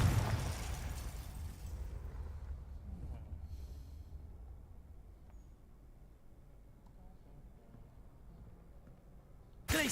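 Fire-blast spell Confringo bursting in Hogwarts Legacy, a loud rumbling explosion at the start that fades into a low fiery roar, with a second sharp burst at the very end.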